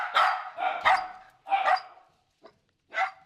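Dogs bark loudly and close by in the snow at a mountain ski hut, a burst of rapid barks followed by a pause, one short yip and a final bark.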